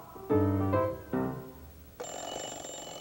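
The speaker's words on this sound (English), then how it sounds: "Is that the KET alarm, Dave?" An alarm bell for instruction time rings on a public broadcasting children's program: two loud ringing bursts followed by a steadier, thinner tone, with no talking.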